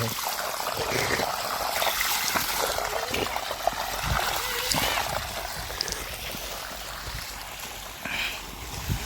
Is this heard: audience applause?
no